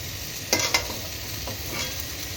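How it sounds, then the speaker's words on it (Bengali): Potato and onion pieces fry in a pan with a steady close sizzle, while a spatula stirs them in a couple of quick scraping bursts. "আলু পেঁয়াজের ভাজা হচ্ছে।"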